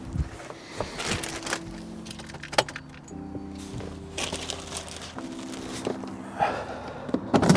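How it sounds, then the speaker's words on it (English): An ignition key is turned in a VW T6.1 Kombi: close, quiet key jangles and clicks, followed by a faint steady electrical hum. "Oh, let's turn the ignition on."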